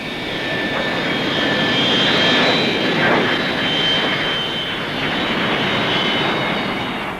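Comet 4 jet airliner in BEA livery using reverse thrust, a loud sustained jet roar with a steady high whine, swelling slightly and holding at close range throughout, no voices.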